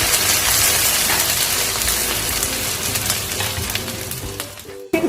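Onions frying in three to four tablespoons of hot oil, giving a loud, dense, continuous sizzle up close with occasional stirring scrapes that fades slightly before a brief break near the end; no speech.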